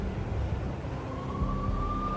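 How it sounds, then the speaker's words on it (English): Police sirens wail in a Max Payne (2001) video game cutscene as the NYPD closes in, a thin rising siren tone over a low rumbling city background. "I could hear the sirens. Their wail was a crescendo."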